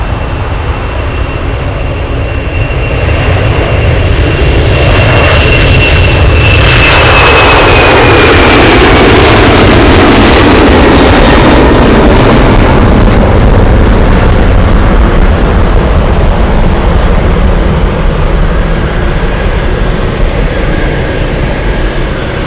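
A FedEx Boeing 767 jet roars loudly and steadily at Anchorage Airport, its engine noise swelling and holding broad and close as it passes, with a high whine sliding down partway through.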